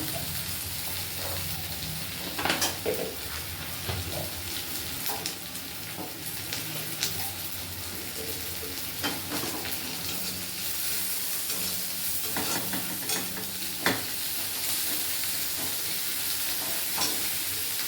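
Onion, tomato, ginger and garlic fry in a pan in a village kitchen, a steady close sizzle with repeated scraping stir strokes and brief clinks running throughout, no talking.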